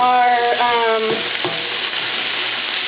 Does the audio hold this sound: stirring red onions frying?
yes